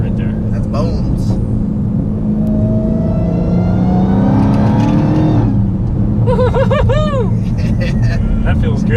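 A Dodge Hellcat accelerates hard in manual mode, engine note climbing steadily in pitch through a gear, loud from inside the cabin, with people talking over it.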